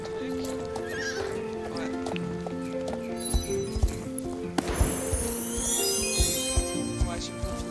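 A horse whinnies and gallops in the online horse-riding game Star Stable Online, with a bright neigh and quick rhythmic hoofbeats over in-game music, while a voice speaks briefly.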